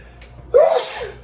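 A single sharp sneeze bursts out after a faint intake of breath, loud and close, then trails off.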